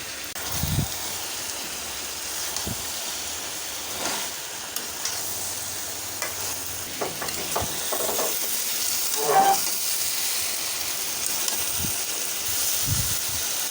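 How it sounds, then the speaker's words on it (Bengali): Okra and small eggplant fry for a mixed-vegetable dried-fish curry, giving a steady low sizzle with scattered scraping and clinking from stirring, a little livelier toward the end; no speech. "সবগুলো সবজি কষে আসছে।"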